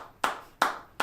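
Three slow, evenly spaced hand claps, crisp and close, each a sharp isolated smack with quiet gaps between, from a gaming highlights stream.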